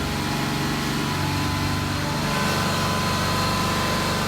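Engine of a 2006 Mazda MPV, fitted with a new idle air control valve, steadily rising to around 3,000 RPM under computer control, a continuous close engine hum that grows louder partway through, with no talking.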